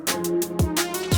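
Two dry, unprocessed drum-and-bass snare hits, each a sharp crack with a short tail and no distortion, sounding roughly half a second apart over a steady tonal hum.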